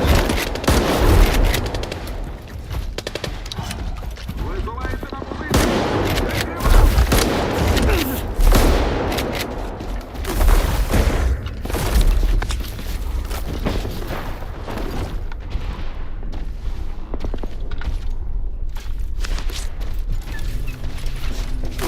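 Shotgun gunfire in S.T.A.L.K.E.R. 2 amid a dense, continuous firefight, with loud repeated blasts, mechanical clatter and booming shots over roughly twenty seconds.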